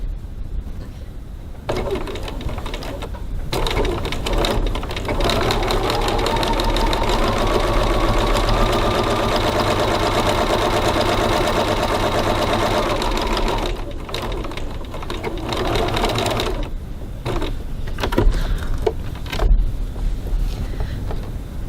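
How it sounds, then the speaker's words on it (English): Sewing machine top stitching piping 3mm from the edge at a 3.3 stitch length, a steady mechanical whir running continuously through most of the stretch with brief pauses and clicks near the end, close and fairly loud. "Now I'm going to top stitch 3mm 1/8 of an inch from the edge"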